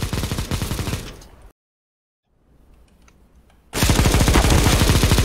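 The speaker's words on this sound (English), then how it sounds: "Midget, he just jumped out shooting" Enemy gunfire in CS:GO, rapid automatic bursts that are loud and close, cutting off abruptly into near silence, then resuming as a dense, sustained volley.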